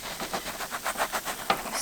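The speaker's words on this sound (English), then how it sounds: "Sizzling." Food sizzles in a pan while camp cooking on a 4x4 off-road trip, a soft, steady hiss with faint crackling pulses, close and fairly quiet, with no talk over it.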